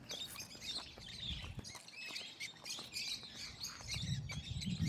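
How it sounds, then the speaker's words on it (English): Several small birds chirp and tweet outdoors in the trees and bushes behind a house. Their calls are quick and scattered, coming in bursts at moderate distance over a soft background hush. "You hear the birds chirping?"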